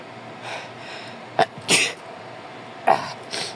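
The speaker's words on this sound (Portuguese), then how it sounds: "Calma aí. Espirrar." Two quick, sharp sneezes sound up close, each a short burst separated by a pause, with faint breathy sounds around them in a quiet room.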